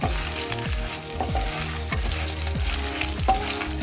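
Dried red chillies and sesame seeds frying in a pan for gongura pachadi, a steady close sizzle with repeated stirring scrapes, and no talk.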